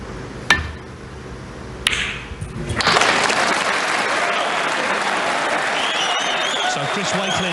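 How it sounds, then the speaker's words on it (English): A snooker audience at the Northern Ireland Open breaks into sustained applause after two sharp ball clicks. The clapping swells and holds steady and loud, with a commentator talking over it. "Listen to the applause."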